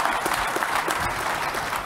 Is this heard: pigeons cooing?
no